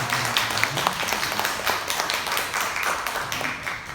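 A church congregation applauds, a dense steady patter of many hands clapping for several seconds at moderate distance, filling the room.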